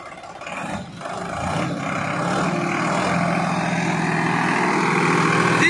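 Sonalika 39 hp turbo tractor on a test drive outside a dealership, its diesel engine droning loud and close, building steadily in level and holding a continuous rumble without speech.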